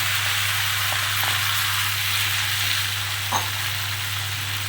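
Malabar spinach chorchori hits a pan of fried onion and garlic and sizzles with a constant, close, hissing fry, broken by a few faint stirring clicks, with no speech.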